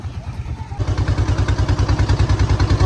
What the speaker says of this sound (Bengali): ওই দেখো এখন আমরা নৌকা করে যাচ্ছি, তো দারুণ লাগছে গঙ্গার মধ্যে দিয়ে।